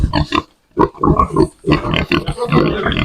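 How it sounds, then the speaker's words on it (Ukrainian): Pigs grunting on a farm where hogs are being ear-tagged, a series of close, loud bursts of grunting separated by short pauses. "Зараз буду біркувати свинюк."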